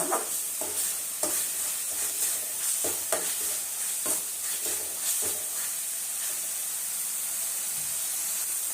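Peanut and sesame powder stirred and frying in oil over low heat for ennegai, with a steady close sizzle and hiss broken by several sharp scraping stirs of a spoon in the pan, no voices.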